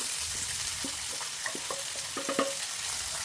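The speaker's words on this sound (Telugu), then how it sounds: "లైట్ గోల్డ్ కలర్ వచ్చే వరకు వేయించుకోవాలి" Chopped onions frying in a pan with whole spices give a steady close sizzle, with light scraping and stirring ticks scattered through it and no voices.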